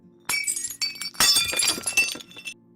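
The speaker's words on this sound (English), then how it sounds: "It sounded like plates breaking or things falling off of a shelf onto concrete." A loud crash of breaking plates or objects falling onto a concrete garage floor, with an initial smash followed by a bigger shattering burst and clinking, tinkling debris settling afterward.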